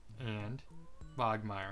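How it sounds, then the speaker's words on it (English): A pet cat meows clearly in the background, two drawn-out, tonal meows heard close together over a short stretch while someone speaks over the first one. "if you can hear in the background, that's my cat meowing"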